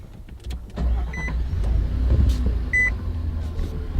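A truck with selectable two- and four-wheel drive starts with a brief crank, then settles into a steady, close low idle rumble that continues alone with no talking.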